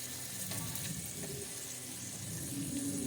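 Water poured into a hot pan of dried fish curry, a brief burst of hissing sizzle and bubbling, close and steady for a few seconds.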